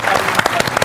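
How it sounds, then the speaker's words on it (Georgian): Audience applause for team Ice-9 at a televised Georgian book quiz show, a short burst of steady clapping from a studio crowd, loud and close, with no talking over it. "აპლოდისმენტები ყინული 9"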